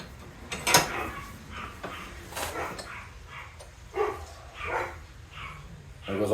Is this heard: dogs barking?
yes